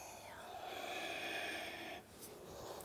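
A long, audible breath out through the mouth during a muscle-strengthening exercise, a soft airy rush close to the mic that fades near the end.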